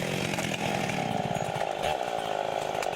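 A chainsaw runs steadily and loud up close while felling a 500-year-old Douglas fir on a steep, rocky slope, its engine drone continuous for the whole stretch with no talk over it.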